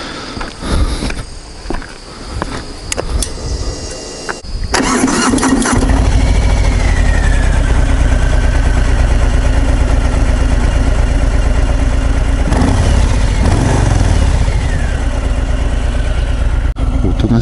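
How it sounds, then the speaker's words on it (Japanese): A Kawasaki FX motorcycle with its stock muffler cranks, then fires into a loud, steady close-up idle that runs on with a deep, even pulse, someone speaking briefly over it. "純正マフラーの音を聞いてみますか"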